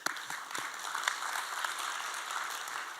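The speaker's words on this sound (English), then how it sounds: "let's clap it up for that" Quiet, steady applause from an audience of parents, a soft continuous patter of many hands with a few sharper claps, fairly distant and even throughout.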